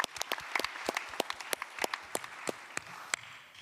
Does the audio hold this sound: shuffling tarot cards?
no